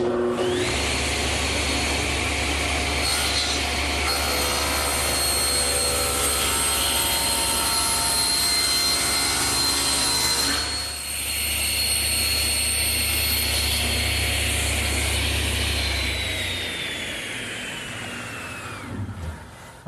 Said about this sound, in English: my panel cutter sure makes an easy job of squaring up the bottom